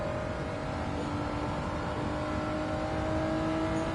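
A modified Honda NSX engine in Gran Turismo 7 holds a steady, loud drone with a sustained tonal whine, revving evenly without pauses and with no talk over it.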